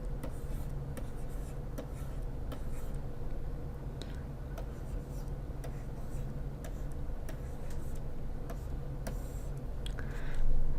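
A pen writing subtraction numbers on paper, giving faint, repeated ticks and short scratches over a steady low hum.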